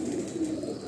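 A pigeon whose squab is being kept for pairing gives a low soft coo, brief and fairly faint, close by against quiet background hiss, with no talking.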